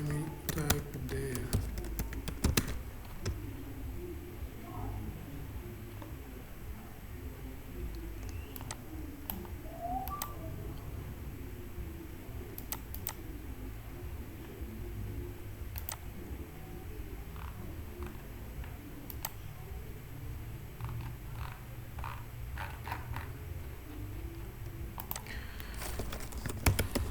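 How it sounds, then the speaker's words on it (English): Scattered keyboard typing while working in Python, sporadic clusters of soft clicks over a low hum and faint background noise, fairly distant, with no clear speech. "let me type there."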